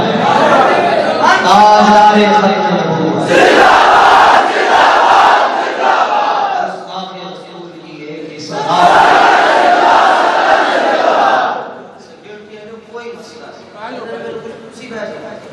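A large crowd at a religious gathering chants slogans in loud, unified bursts, with two long roaring swells separated by a speaker's voice, which continues after the chanting fades.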